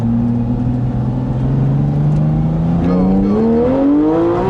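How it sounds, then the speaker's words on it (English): A Porsche 911 GT3 RS on a racetrack makes a first-gear pull, its engine note climbing steadily in pitch, loud and close from inside the car, with voices calling out over it. "Last lap in the GT3. Last lap in the GT3. Can we do a first gear pull?"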